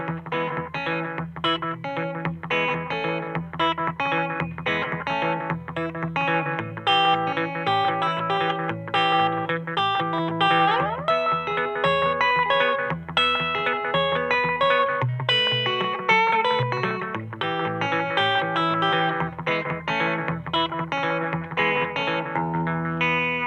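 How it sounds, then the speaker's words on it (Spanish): Electric guitar plays a continuous rockabilly line through a slapback echo effect set to repeat at half time, each note trailed by a quick, tight repeat. Sustained, steady and fairly loud with no voices. "así me genera el eco exactamente a la mitad, o sea, taca, taca, taca"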